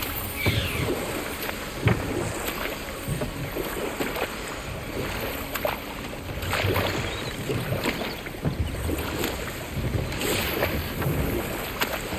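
Rushing waterfalls in the video game God of War Ragnarök form a steady, dense, fairly loud wash of falling water heard close, with occasional louder surges and no talk.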